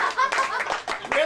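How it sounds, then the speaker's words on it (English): Audience at an open-mic comedy night breaks into brief, loud clapping that lasts about a second, with a little laughter mixed in. "Really? You just clapped for Rob Lowe?"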